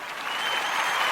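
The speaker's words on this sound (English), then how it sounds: "Hold on, I have applause." Applause sound effect played on a radio show, a short, dense burst of crowd clapping that swells slightly, with no talk over it.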